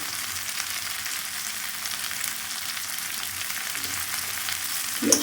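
Turmeric, chili powder and salt fry in a pan for a cauliflower, potato and rohu fish curry, a steady bright sizzle with a brief stirring clatter at the end.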